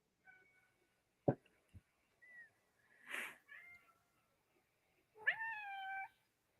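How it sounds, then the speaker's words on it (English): A cat meows a few times, close by in a quiet room, ending with a longer, drawn-out rising meow, with a couple of soft knocks earlier. "I hear a kitty now."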